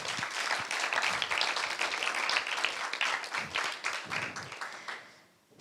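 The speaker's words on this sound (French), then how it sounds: "On les applaudit." Audience applause at a regional final of a sales excellence competition, lively dense clapping that holds strongly before tapering off and dying away at the end.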